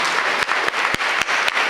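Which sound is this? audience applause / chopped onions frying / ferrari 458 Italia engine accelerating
audience applause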